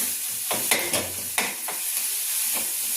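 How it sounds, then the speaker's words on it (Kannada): Garlic and coriander tempering (oggarane) sizzling in hot oil in a pan: a close, steady frying hiss broken by a few sharp stirring scrapes, with no voices. "ಅದಕ್ಕೆ ಸ್ವಲ್ಪ ಒಗ್ಗರಣೆ ಹಾಕ್ತೀನಿ."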